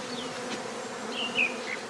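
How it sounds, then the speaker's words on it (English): Dense, continuous buzzing of a bee swarm clustering close by on a tree branch, with individual insects whining past in higher tones over the drone. "The bees are clustering now on this branch of a tree"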